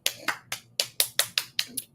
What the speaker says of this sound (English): Let's start some clapping.